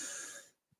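A single cough trails off into quiet, followed by a faint short throat sound.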